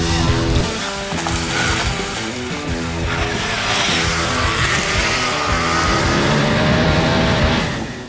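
A 2024 Triumph Tiger 900 Rally Pro motorcycle engine revs up and down in steady rising and falling pitches, close and continuous with some tire noise, no talking.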